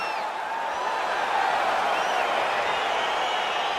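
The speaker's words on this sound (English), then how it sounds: "crowd getting excited as this fight gets underway" A video game crowd in EA Sports UFC 4 at the start of a fight, a broad, steady roar of cheering with some clapping, distant and continuous without clear individual voices.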